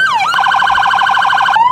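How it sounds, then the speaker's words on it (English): Several fire engine sirens from a Roblox game sound together, a loud electronic wail sweeping down then rapid warbling yelps layered at once, continuous and close. "Let's put all the sirens together"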